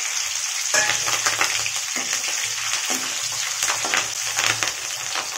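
Green chilies drop into hot oil with whole spices for a wedding-style white chicken korma, giving a steady close sizzle and crackle with brief louder spurts, no talking.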